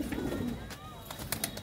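A golden pigeon with clipped wings coos briefly and softly at a bird sale in Ludhiana, low murmuring notes mixed with faint background voices and other bird calls.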